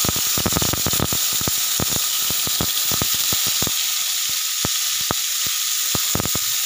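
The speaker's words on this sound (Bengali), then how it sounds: "দিয়ে বেগুন কটা আমি নুন আর হলুদ দিয়ে ভেজে নেব।" Eggplant fries in oil with salt and turmeric, producing a loud, constant hissing sizzle punctuated by many sharp spits and pops scattered irregularly throughout.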